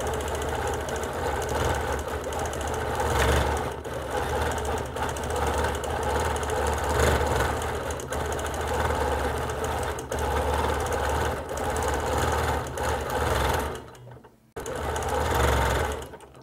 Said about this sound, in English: I'm just going to do some quilting, and you'll be able to see how beautiful it does look.